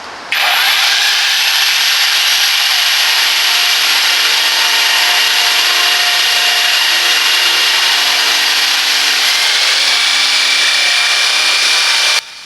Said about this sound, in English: let's move on outdoors and test this jigsaw